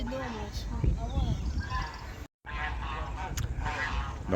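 Geese honk repeatedly in a poultry enclosure, loud nasal calls close by, broken by a brief silent gap midway, with people talking over them.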